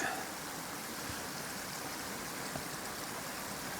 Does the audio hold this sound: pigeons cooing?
no